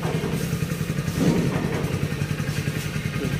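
A motorcycle engine chugging nearby in a steady, loud, low pulsing rhythm, with a brief thump partway through and no talk.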